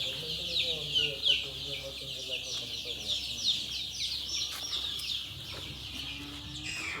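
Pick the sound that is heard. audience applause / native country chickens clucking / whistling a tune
native country chickens clucking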